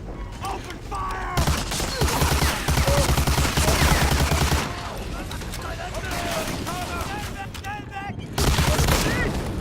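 Soldiers firing rifles and machine guns in the World War II shooter Medal of Honor Allied Assault, rapid overlapping bursts of close gunfire with mechanical clacks, dense and loud, with voices shouting amid the shooting.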